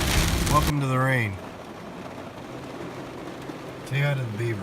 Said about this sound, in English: Welcome to the rain.